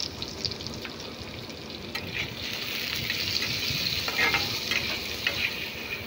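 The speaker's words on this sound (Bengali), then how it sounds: "আলুগুলো একটু ভেজে নেব" Diced potatoes seasoned with salt and turmeric fry in a pan, giving an even crackling sizzle that swells slightly midway, with occasional soft stirring scrapes; no voices.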